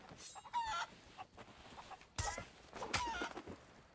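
Chickens cluck and squawk in the pirate game Sea of Thieves, several sharp, brief calls scattered across the clip with quiet gaps between, fairly faint with no talking.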